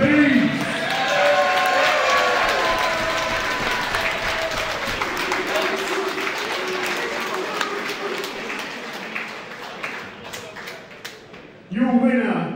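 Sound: round of applause for two fighters

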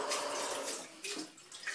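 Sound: washing a saucepan under running water

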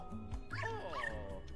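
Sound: dog barking in a Princess Peach video game

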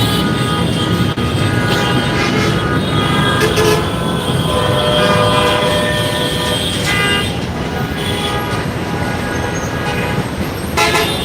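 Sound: heavy traffic jam with car horns on a Dhaka street

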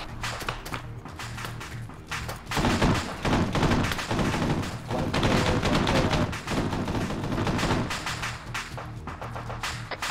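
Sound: gunfire in Arma 3 video game

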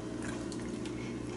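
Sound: pouring water into a pot for pozole

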